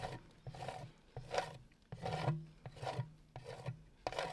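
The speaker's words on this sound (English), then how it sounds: "So while that reel's going, I'm just scraping all the mess." Fluid art paint mess being scraped off, heard as repeated rasping strokes in a rough back-and-forth rhythm, close and fairly quiet, with no talking.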